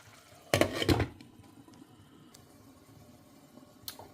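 A lid goes onto a pan of shakshuka with duck and quail eggs, making a short clattering clank of metal, followed by quiet and a faint light clink near the end.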